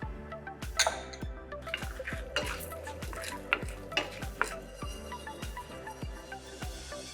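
Long red chilies, tur dal, cumin, coriander seeds and pepper are dry-fried in a pan and stirred steadily, giving a soft sizzle with a regular series of scraping clicks from the spoon against the pan, close and fairly quiet.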